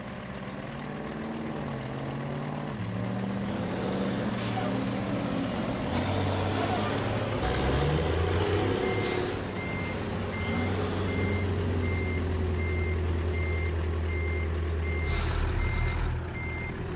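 A new truck's reversing alarm beeps in a steady repeating pattern over a low idling engine, with sharp hisses from the air brakes releasing several times. Someone talks over parts of it.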